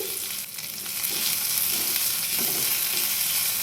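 Chopped curry leaves hitting hot oil with mustard seeds, a loud steady sizzle and crackle of frying that runs without pause, close up and with no voices.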